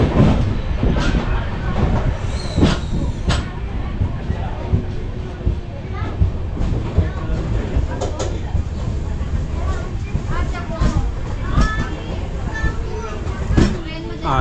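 A Porbandar Express train rumbles along Konkan Railway rails with a constant heavy roar and occasional clacks and squeals, while people talk in the background.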